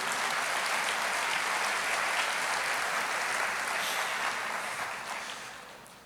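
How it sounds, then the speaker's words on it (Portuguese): A church congregation applauding during a worship service, a dense, steady wash of many hands clapping that fills the space and fades toward the end. "aplauda ao Senhor"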